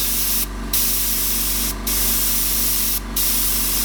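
An airbrush sprays paint for a Joker airbrush painting in a steady, continuous hiss that cuts out briefly three times as the trigger is released, then resumes, loud and close with no talking.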